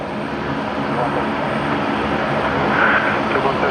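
Rex Saab turboprop airliner at Brisbane Airport at night, a steady engine and propeller drone heard from a distance that swells slightly toward the end.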